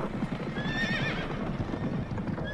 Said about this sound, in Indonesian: Kita makin tahan kuda nih, makin lari dia.